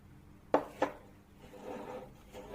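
A spoon stirring caramel into a dry mixture in a bowl, with two quick knocks against the bowl followed by soft, quiet scraping, close up.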